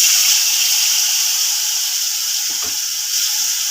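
A spice mix of Kashmiri chilli powder, salt and sugar sautés in a pan with a loud, steady, close-up sizzle and one brief dull knock partway through.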